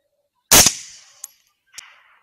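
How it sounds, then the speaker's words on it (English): A single loud, close rifle shot fired during a coyote hunt, with a sharp crack trailing into a decaying echo and two fainter reports or echoes following about a second apart. "shooting."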